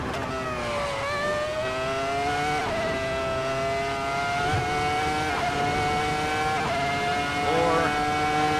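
A Ferrari F2004 Formula One car in a Kunos racing game howls at high revs, its engine pitch climbing through gears with sharp drops at each shift, loud and steady throughout.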